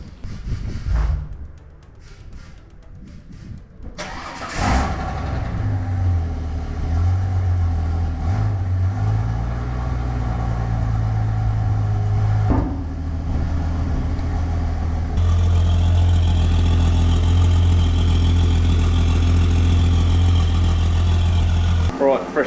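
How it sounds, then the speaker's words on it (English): A car engine cranks briefly after a fuel tank replacement, catches, and settles into a loud, steady idle with a few revs, close by. "give her a couple of cranks, and she'll start right away"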